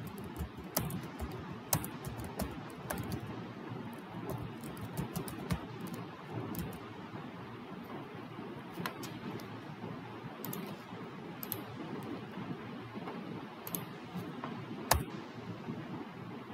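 Computer keyboard typing while a web address is entered during Linux server setup: scattered quiet key clicks and taps over a steady room hum, fairly close, with no talk.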